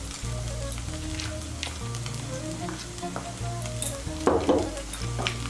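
Vegetable pulao of flattened rice with fried cashews and raisins frying in a pan, a continuous close sizzle with repeated stirring scrapes and one louder clink of a utensil near the end.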